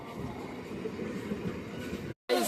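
A train pulling into a station with a steady, loud rumbling roar of wheels and carriages that cuts off briefly near the end.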